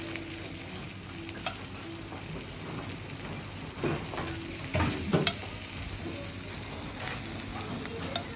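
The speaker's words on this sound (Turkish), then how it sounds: "Köy yumurtamı kırıyorum üzerine." Village eggs cracked onto sucuk frying in its own fat in a pan: a steady, close sizzle throughout, with a few brief louder crackles and spits as the eggs hit the hot meat.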